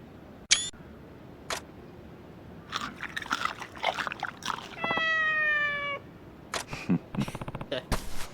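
A cat meows several times in the video game Like a Dragon: Ishin, short clear cries mixed with crunchy eating noises and clicks, close and fairly quiet against game sound and a voice.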